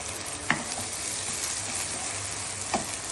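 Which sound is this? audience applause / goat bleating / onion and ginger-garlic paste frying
onion and ginger-garlic paste frying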